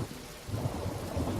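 Rain falls steadily on a road under a thunderstorm, with a constant wash of drops and a low rumble of thunder rolling through, fairly loud and with no talking.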